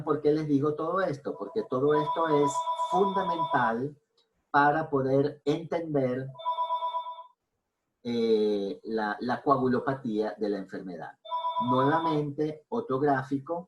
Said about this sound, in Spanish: disculpen el teléfono